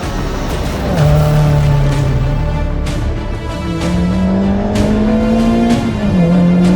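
Toyota MR2 with a 2ZZ engine driven hard, loud close engine revving rising and falling through gear changes while the tyres squeal as they slip.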